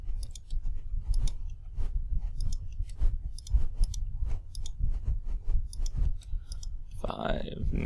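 Calculator keys are pressed while matrix values are typed in, giving a steady run of quick, light plastic clicks close by, with a voice speaking briefly near the end.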